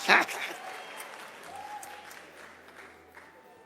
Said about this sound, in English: I know you want to clap more than that.